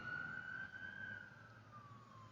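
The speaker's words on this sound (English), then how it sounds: "we got an ambulance" An ambulance siren passes at a distance, a faint steady wail that drifts gradually downward in pitch as it moves away under low background noise.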